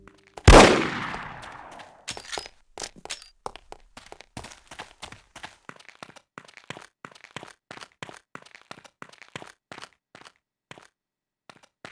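Gunfire in the shooter game No One Lives Forever: one loud close blast followed by rapid sharp shots and a long run of fainter, irregular popping.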